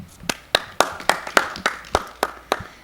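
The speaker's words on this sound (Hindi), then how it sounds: "बहुत सारी तालियाँ जी।" A single person claps in a slow, even rhythm, about ten sharp claps spaced roughly a quarter second apart, close and fairly loud in a quiet room as a guest named Komal Khan is welcomed.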